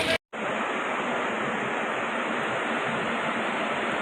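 Floodwater rushes past the damaged dam at Chungthang in Sikkim after a cloudburst, a constant loud roar of turbulent water. It starts after a brief silent gap at the very start, then holds steady.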